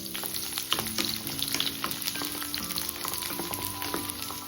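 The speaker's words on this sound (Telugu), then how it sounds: "కడాయి పెట్టుకొని 4 స్పూన్ల ఆయిల్ వేసి తరిగిన వెల్లుల్లి ఒక 20 రెబ్బలు వేసేసుకోవాలి" Garlic, about twenty chopped cloves, fries in four spoons of oil in a kadai with a steady close sizzle and scattered stirring clicks, heard alone with no voices.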